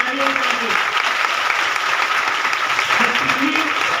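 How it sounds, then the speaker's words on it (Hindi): Loud, dense applause from an audience at an ashram satsang gathering, a continuous wash of clapping with voices faintly audible underneath. "आप बहुत जोर से ताली बजाइए।"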